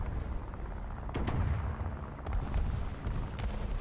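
Gunfire in a tank video game: several muffled booming shots, with a heavier burst near the middle and more blasts later, over a constant low rumble. Fairly quiet overall, with no speech.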